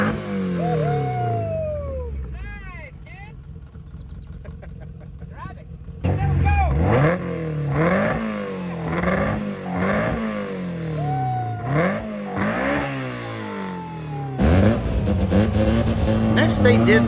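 A Toyota AE86 is revved repeatedly in a parking lot, its engine rising and falling in a string of loud, close throttle blips after a quieter opening stretch with voices.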